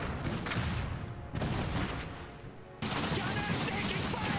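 Enemy machine gunners in the Iron Harvest strategy game firing in sustained bursts, dense rattling gunfire with a heavy low rumble that drops briefly, then surges back strong.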